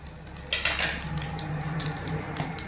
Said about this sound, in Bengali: ওই গরম তেলের মধ্যে ফোড়নে দিয়ে দিচ্ছি এক চিমটে কালো জিরে আর এক চিমটে গোটা জিরে